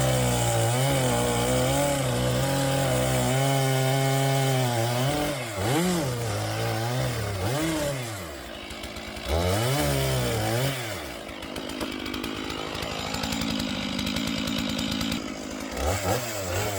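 A Stihl 461 chainsaw cuts firewood into wood-turning blanks, its engine loud and close, revving up and bogging down through several cuts with brief drops toward idle between them.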